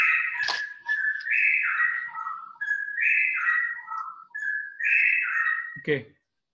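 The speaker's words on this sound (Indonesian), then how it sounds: "Ini ada suara burung siapa ya?" Melodic whistling phrases repeat in a clear, close tune, rising and falling like birdsong, ending abruptly with a brief knock.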